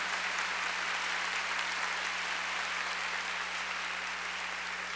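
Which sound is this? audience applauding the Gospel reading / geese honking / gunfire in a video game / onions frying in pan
audience applauding the Gospel reading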